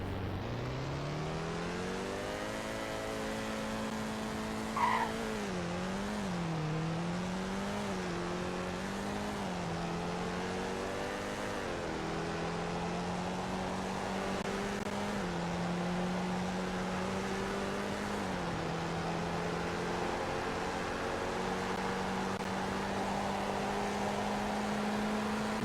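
A car engine drones steadily through a speed test in the Roblox game Greenville, its tone rising in pitch with a few brief dips as gears shift, close and continuous with no talking.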